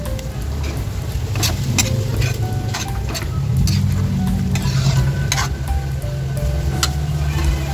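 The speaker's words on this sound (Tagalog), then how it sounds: "Halu-haluin natin guys." Chicken liver sizzles steadily in a pan while being stirred, with repeated scraping and clicking of a utensil against the pan over a continuous frying hiss.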